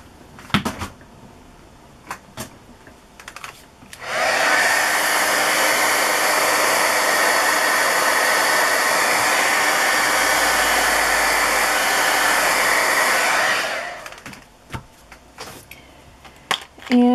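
A hair dryer blowing on watercolor paper, switched on after a few quiet clicks and handling noises, runs loud and steady for about ten seconds, then cuts off, followed by more light tapping.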